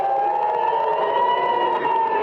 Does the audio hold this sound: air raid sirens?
yes